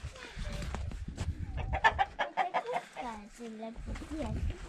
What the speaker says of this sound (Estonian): Mul on kana käes või kukk tähendab.